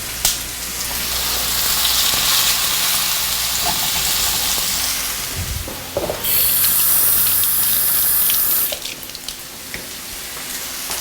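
Turkey burgers fry in a hot, oiled pan on a gas stove, a steady close sizzle that continues for the whole stretch. Brief clatters break in midway, and a brighter hiss or running-water sound rises in the later part.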